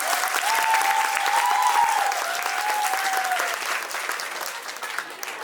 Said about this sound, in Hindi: उनके लिए जोरदार तालियां, बच्चों को मोटिवेट करते हैं।